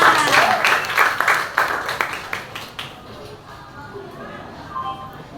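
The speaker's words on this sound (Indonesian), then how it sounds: "Tepuk tangan" A short burst of applause from a group, claps fading out after a few seconds into quiet room murmur and voices.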